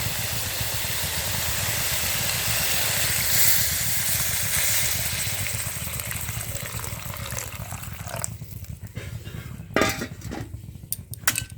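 Water is poured into a pot of fried chicken and vegetables for a chicken stew, setting off a loud, dense steam hiss that slowly fades. Metal clinks and scrapes from the pot follow near the end.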